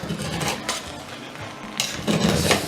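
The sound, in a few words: spoon stirring jollof rice in a pot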